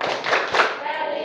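Sixth-grade class performing the Tepuk PPK chant, a few sharp rhythmic hand claps mixed with children's chanting voices in a short close burst.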